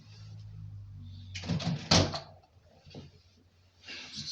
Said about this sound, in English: just decided to close the door